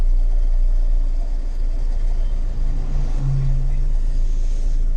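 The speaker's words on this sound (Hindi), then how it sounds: "ये देखो हमारी गाड़ी चल रही है।" A manual car's engine rumbles steadily as the clutch is slowly released in first gear and the car pulls away, a low continuous drone with a brief rise in pitch midway and no talk.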